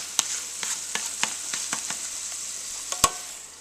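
Ground beef sizzling in a Ninja Cooking System pot, a steady close hiss of hot grease broken by scattered sharp pops and crackles, with no talking.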